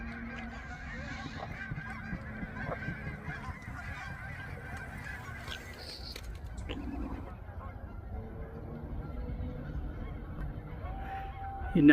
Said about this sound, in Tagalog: Yan, daming gansa lumipad oh.